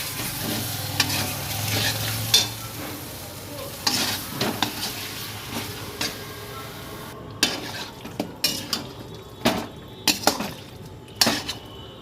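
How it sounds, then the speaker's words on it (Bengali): Chicken with spices stirred in a pan on a village kitchen stove, with a steady sizzle under repeated scraping and clinking of a spoon against the pan, close up and with no talking. "এর মধ্যে দিয়ে দেবো চিকেন চিকেনগুলো দেওয়ার পর আবার একটু মিশিয়ে নেবো"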